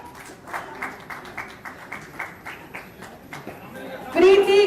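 Rhythmic clapping from a crowd greets taekwondo athletes called up one by one at a state sports award ceremony, steady rounds of hand claps running throughout, with a louder voice breaking in near the end.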